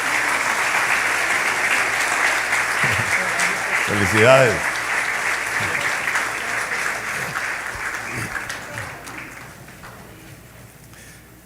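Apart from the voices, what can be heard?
congregation applause in church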